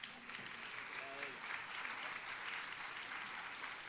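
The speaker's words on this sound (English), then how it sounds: "So one last round of applause" Audience applause at an elementary school tech wellness day, a steady wash of clapping from a group that holds at an even level throughout, with a few faint voices mixed in.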